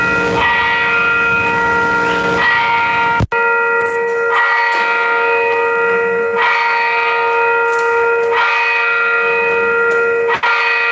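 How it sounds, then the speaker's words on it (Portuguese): A church bell rings loudly and steadily in repeated sustained strokes, its tones ringing on between strikes during a catechesis talk, with no voices. "porque tocou o sino, eu acabei parando no meio"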